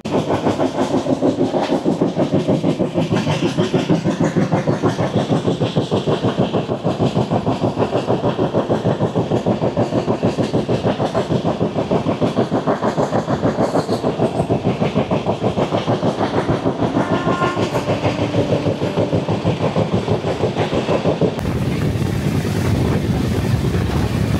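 Samaleshwari Express passenger train on the Howrah–Jagdalpur route running along the rails, a loud continuous rumble with rhythmic wheel clatter and wind buffeting close by, no voices.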